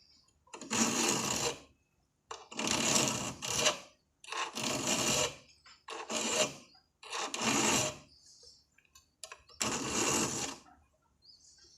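A hand file rasps across the tip of a wood spade drill bit in six close, fairly loud bursts, each roughly a second long and separated by short pauses, with no talk.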